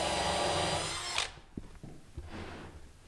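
A power drill whirs steadily while boring a countersunk pilot hole in a kitchen cabinet, then winds down after about a second. A few scattered knocks and handling sounds follow, with no speech.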